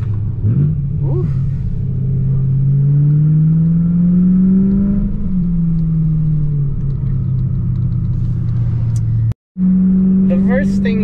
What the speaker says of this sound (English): let me do a downshift